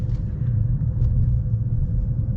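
A 2025 Ford Maverick Hybrid AWD truck accelerating, heard from inside as a steady, low engine and road rumble with no gaps, fairly loud.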